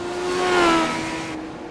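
Legends race cars on the Charlotte speedway roar past, one steady engine drone swelling and then easing off as it pulls away.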